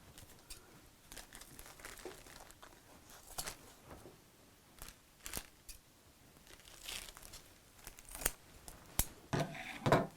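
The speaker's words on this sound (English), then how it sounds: "is just snip off the corners" Scissors snip off the corners of fabric in a series of short, quiet cuts and crisp clicks, with some rustling of cloth; no one talks.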